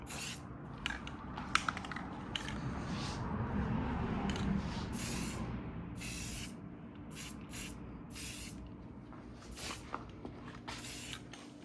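Filler primer sprayed from an aerosol can onto a 2001 Toyota Camry side mirror, heard as a series of short hissing bursts of varying length over a low background hum, with no talking.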